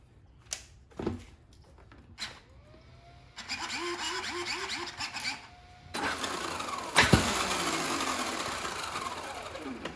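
An X-Maxx RC truck fitted with RPM oversized front and rear carriers drives after the upgrade, with a whining motor pitch rising and falling, gear chatter and bursts of scraping and rolling noise, close and moderately loud.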